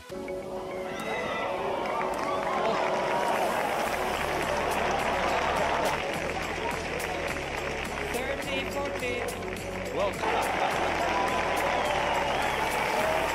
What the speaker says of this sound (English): the whole crowd started cheering